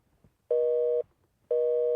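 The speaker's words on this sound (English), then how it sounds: "It's busy." A telephone busy signal: loud, identical tone bursts of about half a second each, separated by equal silences in a regular on-off rhythm.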